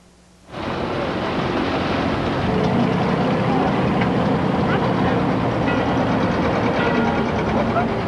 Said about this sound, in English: We're on one of the public boats instead of buses, of course.